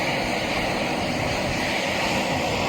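A loud creek or river in Yellowstone National Park rushes in a dense, unbroken roar of flowing water, steady and close, with no voices.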